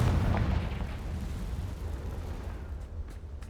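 A Confringo blasting spell in Hogwarts Legacy erupts as a loud, deep explosion with a heavy low rumble that slowly decays over a few seconds, followed by faint scattered debris clicks near the end.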